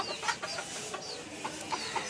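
Farm chickens cluck softly in short, scattered calls at a moderate distance during heavy rain, heard alone without talk.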